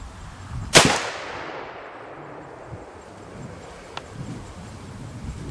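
A single sharp, loud rifle shot from a .338 Weatherby RPM cracks out and rings into a long decaying echo across an outdoor range, followed by faint thumps and quiet ambience.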